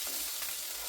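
Chicken and mushroom curry in a pan just after a small splash of water, giving a brief, continuous hissing sizzle at moderate level with no talking.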